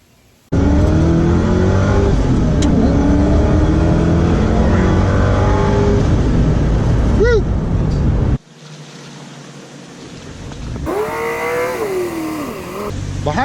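A 2005 Ford GT sports car with 550 horsepower, its engine loudly revving and roaring close by for several seconds before cutting off, then a rising rev follows as it builds again.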